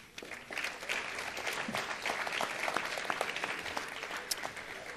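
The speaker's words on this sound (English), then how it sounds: "Give them a nice round of applause." Sustained audience applause filling a city council meeting chamber, a dense steady patter of many hands clapping at moderate volume throughout, with no talk over it.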